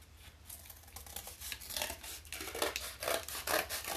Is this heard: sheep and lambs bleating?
no